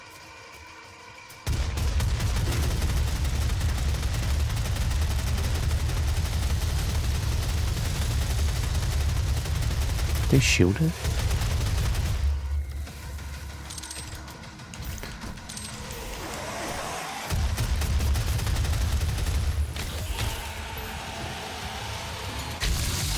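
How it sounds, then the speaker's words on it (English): Heavy mechanical chain gun fire from the video game Doom roars continuously for most of the stretch, with rattling, clanking mechanism noise and brief pauses, while a voice speaks briefly over it. "But we got the chain gun."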